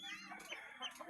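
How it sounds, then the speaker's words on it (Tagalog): A chicken clucks in a short run of close, raspy calls that rise and fall over about a second, with no talking. "Wah, Santos, pigbabahan na yung manok."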